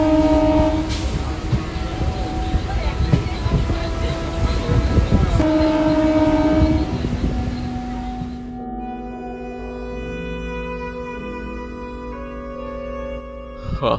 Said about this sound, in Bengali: কিন্তু মাঝপথে ট্রেন হঠাৎ বন্ধ হয়ে যায়।